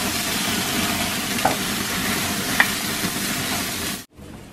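Chicken grilling on an outdoor barbecue in the snow gives a steady broad sizzle and hiss up close, with a couple of small pops, before it cuts out abruptly near the end.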